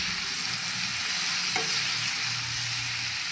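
Boiled potato pieces fry with tomato in a pan, giving a loud, unbroken sizzle and hiss with a single brief stirring scrape partway through, close up and with no voices.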